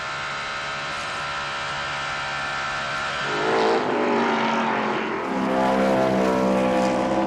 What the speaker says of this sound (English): I love when a sound makes your body vibrate, and this V8 sound is incredible in that regard.